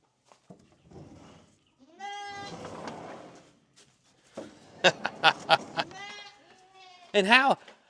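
Several goats bleat close by in a series of wavering cries, with a sharp, loud call near the end and some talking in between.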